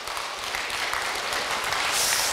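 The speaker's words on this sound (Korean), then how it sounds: "여러분 자신에게 잘하고 있다라고 박수 한번 보내주시면 고맙겠습니다." At a club's anniversary event, a hall audience breaks into a brief, steady burst of clapping that builds slightly toward the end, with no talk over it.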